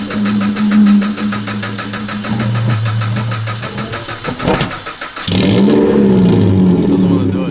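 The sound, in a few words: engine of an adult-sized toy car revving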